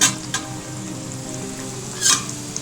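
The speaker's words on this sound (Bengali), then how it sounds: "আরও কয়েকটা দিয়ে দিচ্ছি সমোসা" Samosas deep-fry in oil, a steady close bubbling sizzle with a couple of louder splashing bursts as pieces are moved or added.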